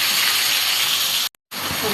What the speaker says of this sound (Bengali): দিয়ে আমি এদিকে তেলটা গরম হয়েছে, ওই তেলের মধ্যে করে আমি এই পেস্টটা একটু ঢেলে দিলাম।